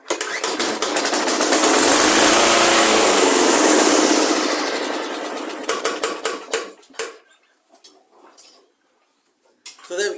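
A project lawn mower's small engine fires on carb cleaner, catching with a loud sputtering roar that swells for a few seconds, then stumbles into irregular pops and coughs before dying out.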